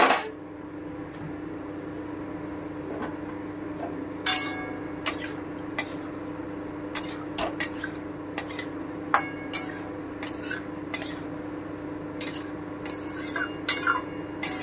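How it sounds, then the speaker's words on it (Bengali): Paneer cubes tipped into a hot pan for chilli paneer and stirred, giving a run of sharp metallic clinks and scrapes of a utensil against the pan over a steady low hum, close and moderately loud, with no talking. "এবারে আমি পনিরটা দিয়ে দিচ্ছি"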